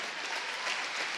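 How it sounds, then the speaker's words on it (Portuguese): An audience applauds during a church service, a continuous wash of clapping hands that sounds somewhat soft and distant, with no voices. "se quiser puxar as palmas, pode puxar também, que fica mais bonito"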